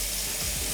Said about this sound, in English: Test the tap and check the drain pipes and supply lines for any leaks.